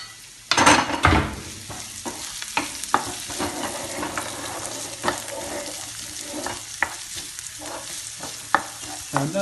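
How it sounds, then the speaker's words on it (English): Onions and chilli frying in a pan for a vegetable cottage pie, a steady close sizzle broken by repeated scraping stirs and light clinks of utensil on metal. "We're just going to let that cook for a minute or 2 and give it a quick stir around"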